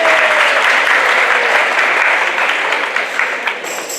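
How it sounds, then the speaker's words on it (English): Sustained applause from an awards ceremony audience for a school jazz band, loud and dense throughout, thinning slightly toward the end. "Can we give our jazz band another round of applause?"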